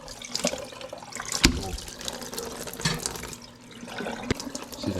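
Cured salmon rinsed under a running tap gives a continuous splashing water flow with uneven spatters and small knocks throughout, moderately close and steady for about five seconds.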